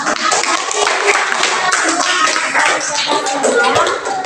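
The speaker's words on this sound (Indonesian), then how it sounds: "Tepuk tangan dulu buat kita semua" A classroom group claps together in dense, continuous applause for several seconds, with some voices mixed in.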